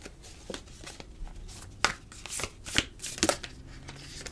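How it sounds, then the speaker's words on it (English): A deck of cards being shuffled close by in several quick riffles and snaps, with brief pauses between bursts. "This is the hardest deck to shuffle."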